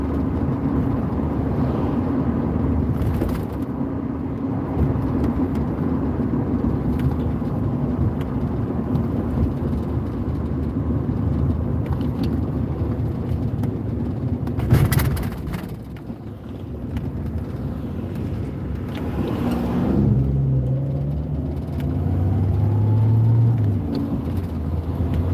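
Steady road rumble and engine hum of a car cruising through a 50 zone, heard from inside the cabin, continuous and fairly loud with a brief bump midway and a few low engine-note shifts near the end.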